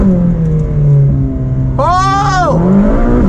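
A car engine revs hard and drops through quick successive downshifts, the exhaust note rising and falling with sharp blips, loud and close inside the cabin, with a voice briefly under it.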